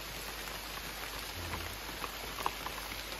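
Rain falls steadily on a hiking trail in the Oze wetlands, a soft, even hiss of dense drops with occasional faint tapping, fairly quiet and without voices.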